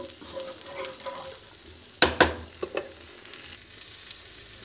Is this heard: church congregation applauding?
no